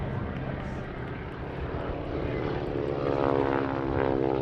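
Propeller-driven wingwalking display biplanes pass at an airshow, a loud, steady engine drone that swells slightly as they fly by in front of the crowd.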